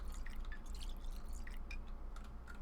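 In the video game Pathologic 2, a container is filled with clean water, heard as a quiet stream of drips and trickling water over a steady low background hum.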